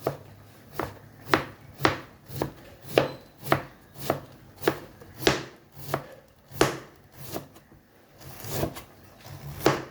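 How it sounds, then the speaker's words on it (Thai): A knife finely chops vegetables for a salad on a cutting board, about a dozen firm evenly spaced strokes, close up, with a brief pause near the end. "ก็หั่นนะคะเพื่อน ๆ หั่นแบบว่าฝอยเล็กๆเล็กๆเลยนะคะ"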